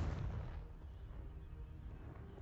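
A Confringo fire spell blasts off in Hogwarts Legacy, a deep booming burst up front that rolls out into a low rumbling tail across the rest of the moment.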